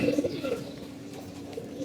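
Domestic pigeons coo briefly and softly nearby in a loft, a couple of low rolling calls near the start, then fading into quiet background.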